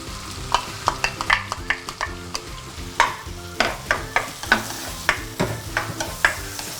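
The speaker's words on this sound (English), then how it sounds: "Now what I like to do with my onion is saute it under low heat until it becomes soft and sweet" Onion sautés in butter in a pan, with repeated close scraping stir strokes in a steady rhythm over a soft sizzle and no talking.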